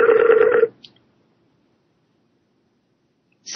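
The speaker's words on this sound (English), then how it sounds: "So we're ringing Ben at Productions.com." A telephone ringing out during a live radio broadcast call: a short loud electronic ring burst, then near silence, then another burst starting at the very end.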